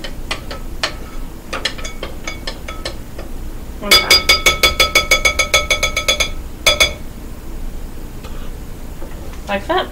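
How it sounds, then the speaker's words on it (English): A spoon dropped into a kitchen sink sets off a quick rattling clatter of metal, with lighter clinks before and after, close by amid kitchen handling. "Put spoon in the sink."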